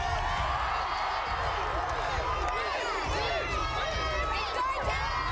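A loud, dense crowd cheers and shouts continuously at the start of a race on a game show, with some clapping and excited voices layered throughout.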